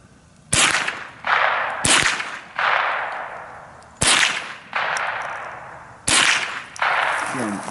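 Four loud rifle shots from a BX25 fired outdoors at a small target from a rest, each a sharp crack followed by a long rolling echo, spaced roughly every one and a half to two seconds.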